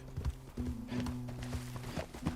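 Donkey hooves clop along at a steady walking pace in Red Dead Redemption 2, faint and slightly distant, over a low background hum.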